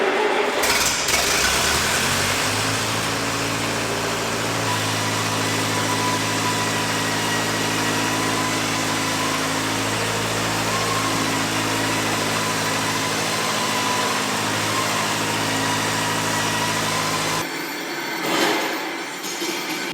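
A machine engine cranks and fires up, then settles into a steady, loud, close idle with a deep droning rumble that runs on unbroken until it abruptly cuts back near the end.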